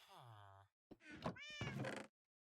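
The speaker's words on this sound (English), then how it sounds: "Meow to you too." A cat meows in the Minecraft video game, with one long, clear harmonic mew followed by a short gap and two more bright, close calls.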